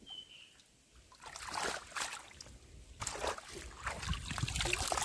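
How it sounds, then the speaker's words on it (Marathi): Shallow water trickles through a stream below a rice-field area in rural Konkan, a soft broadband rush that swells in uneven waves and grows louder toward the end, heard close with no talking. "मस्त झुळझुळ पाणी आहे खाली."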